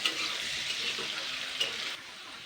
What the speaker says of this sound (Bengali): এটা দিয়ে কিন্তু আলুটাকে আগে ভালো করে ফ্রাই করে নিতে হবে, ভেজে নিতে হবে।